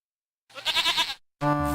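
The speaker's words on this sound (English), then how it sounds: "The goat is wandering this way and that, exploring his little pen." A single drawn-out, wavering goat bleat from the King's Quest I video game, then a brief buzzy tonal sound, both clean and close against silence, with a game-like digital quality.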